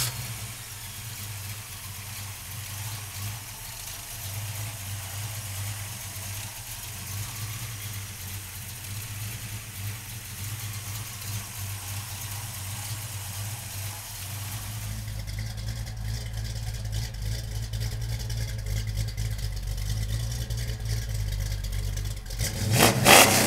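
A 1965 Ford Mustang Fastback with a 331 stroker V8 runs up close, holding a steady low idle before climbing into louder revs, ending with a sharp burst near the end; no one talks.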